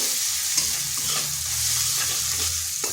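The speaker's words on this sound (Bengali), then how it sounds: "এরপর আদাটা একটু নেড়ে নিচ্ছি" Grated ginger and turmeric fry in oil in a pan, making a continuous close sizzle with faint stirring movements underneath.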